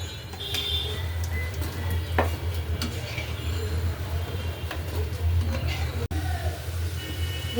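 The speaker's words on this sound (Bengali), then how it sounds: "আমি আগে কড়ার ভিতরে তেল আর পেঁয়াজ লাল করে নিচ্ছি" Onions browning in hot oil in a wok give a steady, dense sizzle that runs through the whole stretch over a low hum, with a few faint clinks of a utensil.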